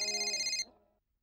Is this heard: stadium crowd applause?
no